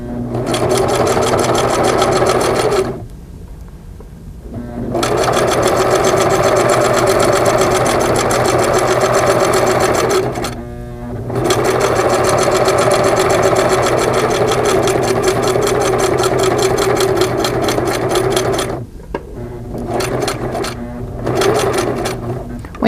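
A Singer sewing machine stitches quilt binding in the ditch, running loud and steady in long bursts with a few short pauses, while a person talks over the whirring.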